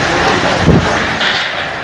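Strong Cyclone Nisarga wind with rain roaring along a street between Alibag and Mumbai, a loud, continuous broadband rush with a brief gusty swell near the middle and no talking.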